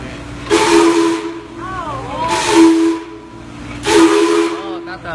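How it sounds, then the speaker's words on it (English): A steam whistle on a brewery bottling line near a bottle washer blows three long, loud hissing blasts in fairly even succession, with brief quieter gaps between them. "Oh, that's a steam whistle."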